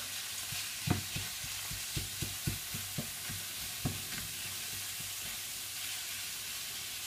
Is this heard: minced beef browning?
yes